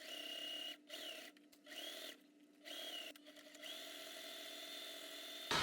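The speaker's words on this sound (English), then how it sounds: "we're going to sew all the way down as close as we can to the edge, and then sew down the folded side as well" A sewing machine runs steadily as it stitches down a fabric bag strap close to the edge, a quiet, even whirring hum broken by several short pauses, with no talking.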